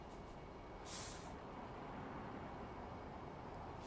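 A truck in American Truck Simulator lets out a short, loud hiss of air brakes over a steady engine and road rumble while slowing.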